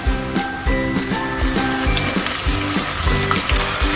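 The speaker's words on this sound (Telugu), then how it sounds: "ఎర్రగడ్డలు నూనెలో వేస్తాను. అది ఎర్రగా వేగినాక మసాలా వేస్తాను." Masala spices frying in hot oil with browned onions, a loud steady sizzle under a rhythmic clatter of a spoon stirring the pan.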